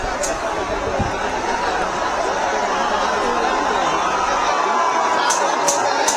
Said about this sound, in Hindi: छात्रों के हुंकार सुनो सरकार, ये नारे लग रहे हैं।